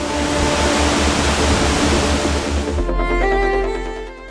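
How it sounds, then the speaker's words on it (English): Beaver Falls, a waterfall in Havasupai canyon, roars as a loud, steady rush of broadband water noise that fills the scene before easing slightly to a softer, more open wash. "Beaver Falls truly lived up to its reputation, and it was one of the coolest waterfalls that any of us had ever been to."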